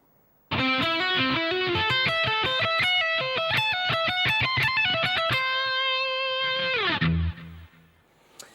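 A distorted electric guitar plays a guitar solo lick slowly in picked notes, ending on one long sustained note that fades out.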